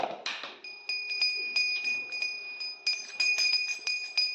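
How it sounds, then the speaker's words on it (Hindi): A small bell rings repeatedly in quick clusters, bright metallic tones with a sustained ring, close and fairly loud, no talking. "बजा घंटी बजा।"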